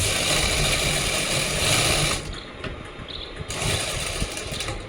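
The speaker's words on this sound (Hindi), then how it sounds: "यहाँ रख लेंगे मशीन के नीचे, और हाफ इंच इसको सिलते चलेंगे।" Sewing machine running fast to stitch the pocket seam of palazzo pants, a steady close whirring hum that pauses briefly in the middle for about a second, then starts again. No talking.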